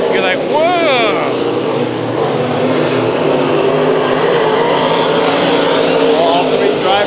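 Race cars roar around Bakersfield Speedway during a heat race, a loud continuous engine drone with a passing whine early on, while a voice talks over the racket.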